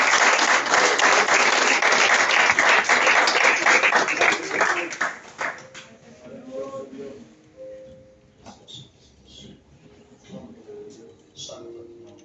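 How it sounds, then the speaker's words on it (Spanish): A church congregation claps loudly and thickly for several seconds, then the applause fades out into quieter room sounds with scattered movement. "Un fuerte aplauso al Señor."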